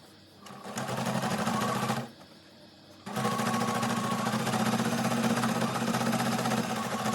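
A sewing machine stitches fabric bag pieces together in two steady runs separated by a short pause, with a fast, even mechanical whir close up and no speech.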